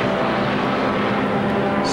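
At the 1989 IMSA Daytona 24 Hours, a Japanese GTU-class race car with a damaged front runs its engine in the pits, a loud, continuous, roaring drone that holds steady throughout.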